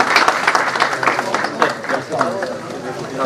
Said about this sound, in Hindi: हमारे ऑनरेबल फॉरेनर मेहमानों के लिए ज्यादा तालियां होनी चाहिए।